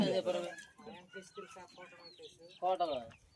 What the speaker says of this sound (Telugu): ఇదిగోండి ఇలా కోడి పెట్ట చూసారా, ఎన్ని గుడ్లు వేసిందో నాటుకోడి